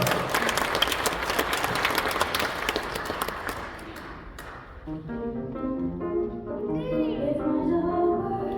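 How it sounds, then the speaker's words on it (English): Audience applause at a seventh-anniversary celebration performance, a dense burst of clapping for about four seconds that fades out, followed by soft instrumental music with no talking. "let's give a big round of applause"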